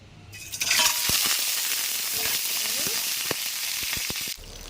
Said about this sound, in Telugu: మనం ఎగ్స్ ఆయిల్లో వేసుకున్నప్పుడు కొంచెం దూరంగానే ఉండండి ఎందుకు అంటే అవి మళ్ళీ పేలతాయి